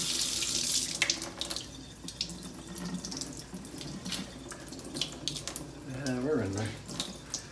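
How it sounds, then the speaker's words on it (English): Water running from a kitchen-style tap while a straight razor is sharpened, a steady splashing stream with a brief gurgle near the end and someone saying a few words over it. "just under running water"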